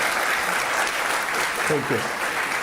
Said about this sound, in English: please allow them to applaud